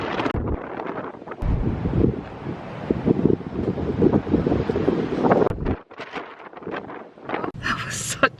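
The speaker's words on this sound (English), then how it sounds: "That was such a windy walk." Strong wind on a beach in Devon buffets the microphone in heavy gusts, roaring and rumbling, with a brief lull near the end before more gusting returns.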